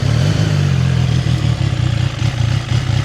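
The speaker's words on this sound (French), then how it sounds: "On va la démarrer, vous allez écouter un peu le moteur" A CF Moto 675 SR-R motorcycle engine runs at a steady, low, rumbling idle after starting, close and loud, with no voices.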